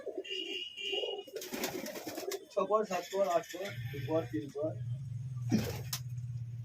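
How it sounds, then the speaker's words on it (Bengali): Madrasi pigeons in a loft coo in low, repeated throaty bursts nearby, while a person talks over them. "এই যে পায়রাগুলো আছে বন্ধুরা"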